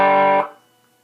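A single guitar chord rings through a BOSS ME-20 multi-effect on its plain overdrive setting, loud and gritty, then decays quickly into silence within about half a second.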